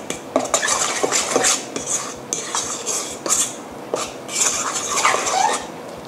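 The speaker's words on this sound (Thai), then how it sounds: "ก็คนส่วนผสมให้เข้ากันคือคนให้พอเข้ากันนะคะ" Batter for a fried vegetable salad being stirred in a bowl, a steady run of close, rapid utensil scrapes and clinks repeating with an uneven rhythm, with no talking.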